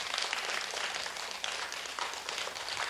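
Applause at a results presentation for a New York Philharmonic young composers program in Tongyeong, fairly faint, soft and continuous clapping from a modest audience, with no talking over it.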